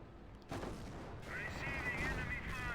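Decoy artillery fire in the video game Company of Heroes, a distant boom followed by a steady rumbling barrage with a whistling shell tone, mid-level and continuous.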